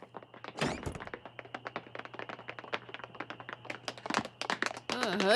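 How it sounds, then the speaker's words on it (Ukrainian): Rapid tap-dancing footsteps from an animated pony cartoon: a dense, lively run of sharp, close clacks and thumps with uneven rhythm under a steady low hum, briefly broken by a louder bang near the end. "Чечітка?"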